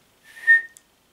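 Toot Sweets candy whistle from Chitty Chitty Bang Bang, blown once: a single thin, bright whistle tone swelling up and fading within half a second, followed by a tiny chirp and the start of another toot, alone in silence.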